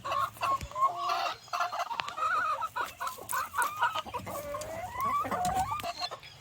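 Hens cluck in a chicken coop, close and fairly loud, with a run of overlapping clucks and squawks and no one talking.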